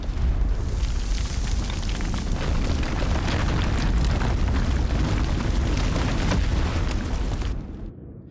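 Loud, continuous barrage of explosions and booming blasts with crackling debris in a video game, dense and unbroken for several seconds before cutting off abruptly.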